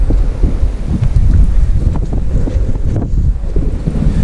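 Strong coastal wind on the cliffs between Runswick Bay and Port Mulgrave, buffeting the microphone with a loud, continuous low rumble and gusts, with no talking.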